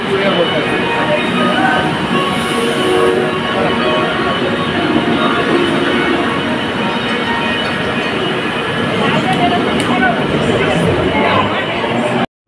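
Loud, steady rumble and rattle of a Kolkata metro train running from Howrah Maidan to Kalighat, with wheel noise and faint voices beneath, ending abruptly.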